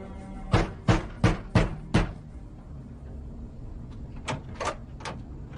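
Knocking on a door: five firm, evenly spaced raps, a pause of about two seconds, then three softer knocks.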